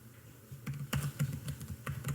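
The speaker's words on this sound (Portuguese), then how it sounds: "Aqui eu posso digitar o meu nome." A name is typed on a computer keyboard in quick, close, distinct keystrokes that form an irregular run of clicks, with no voice over them.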